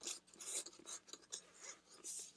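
A Galayou G6 2K Wifi light bulb camera is twisted into its screw-in base, giving soft, close rasping and rubbing scrapes in short uneven bursts, faint throughout.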